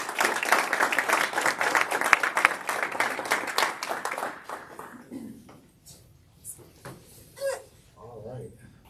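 Round of applause from an audience at a quarterly community all-hands meeting, dense clapping for about five seconds that thins into scattered claps, followed by quieter room noise and a voice speaking.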